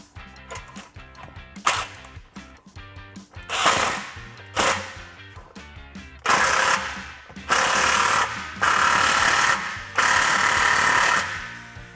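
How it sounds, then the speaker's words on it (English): Tightening an exhaust clamp on a Jeep Gladiator JT dual exhaust install: loud bursts of a power tool, several long close runs with pauses between, under a clattering mechanical background. "Now let's grab our 15mm and tighten down this clamp."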